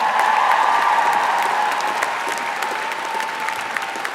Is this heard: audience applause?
yes